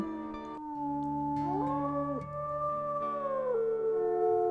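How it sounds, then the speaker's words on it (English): Wolves howling in a wolf-pack video game, several drawn-out overlapping howls rising and falling in pitch, steady and moderately loud against a soft background. "So I am going to spend some time howling away."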